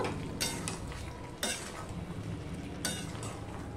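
A vegetable curry of drumsticks, okra and potato is stirred in a pan over a low steady fry, with a few distinct scraping strokes of a spoon against the metal and no voices.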